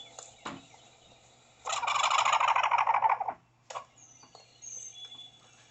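A wild turkey gobbles loudly in a rapid rattling burst lasting about two seconds, followed by a short sharp call and quieter outdoor background during a turkey hunt.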